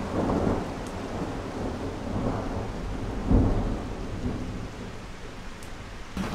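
Thunder rumbles through a thunderstorm with steady rain, a low roll swelling and a sharper crack near the middle, heard outdoors while taking shelter during a camper trip.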